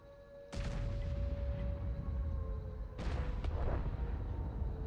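Tank cannon fire in a competitive tank video game match, two heavy booming shots a few seconds apart over a constant engine drone and tonal hum.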